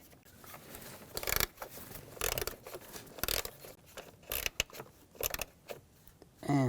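A nut being threaded onto a bracket by hand while replacing spark plugs on a 2006-2010 BMW 550i 4.8L V8, a series of short close metallic clicks and scrapes in uneven bursts, quiet between them.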